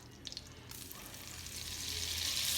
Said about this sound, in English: the butter is melted and the pan is hot enough so we can start adding our meat